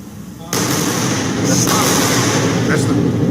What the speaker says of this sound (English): That's the Double sonic booms.